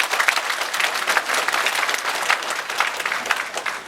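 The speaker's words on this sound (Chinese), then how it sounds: "有请给我们一点掌声。" An audience at a formal church concert applauds warmly, a dense, steady wash of clapping that carries on without a break for the whole few seconds.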